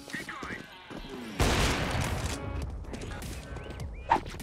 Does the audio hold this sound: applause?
no